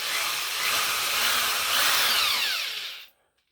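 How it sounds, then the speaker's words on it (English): Power drill boring through a wooden stud, a close, loud, high whine held steady for about three seconds before cutting off sharply. "And we'll drill this through."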